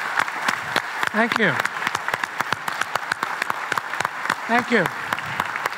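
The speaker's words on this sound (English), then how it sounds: "Big applause." Audience clapping at a conference closing session, dense and steady throughout, with someone briefly speaking over it twice.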